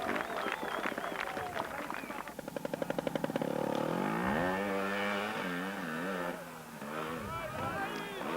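Trials motorcycle engine revving and labouring up a steep section at a 1993 Foppolo, Italy round, a rough sustained snarl rising and falling in pitch with a burst of rapid pulses, fairly close, with voices talking over it.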